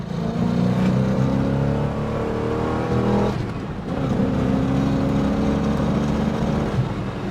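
A 1969 Pontiac GTO engine pulls hard under acceleration in second gear, droning loud and close, dips briefly, then climbs again in a sustained rising roar.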